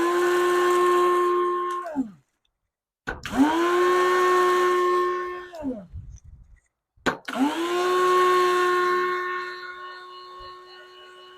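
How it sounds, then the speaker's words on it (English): A coffee grinder powders dried material for garden fertilizer in three loud whining bursts, each winding down with a falling pitch and separated by short pauses, with no talking. "And you put it in your handy dandy coffee grinder."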